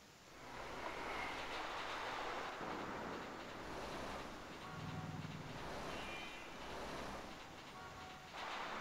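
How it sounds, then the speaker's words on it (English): A freight train rolls past in the A-Train 8 railway simulation game, giving a continuous, washing rumble of wheels and cars at moderate level with no speech. "Look at that freight train going past."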